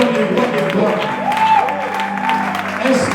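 A church congregation applauds and cheers in acclamation of the king of glory, a loud, sustained crowd roar of clapping and voices with music and a voice over it.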